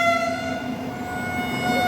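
A train sounds a steady, sustained horn at a railway crossing, moderately loud and continuous over a low rumble, with no talking.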